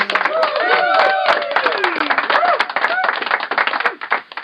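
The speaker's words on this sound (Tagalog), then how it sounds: "Palakpak." Crowd clapping at a gathering about flood aid, sharp dense claps under a speaking voice, growing more distinct and patterned as the talk fades out.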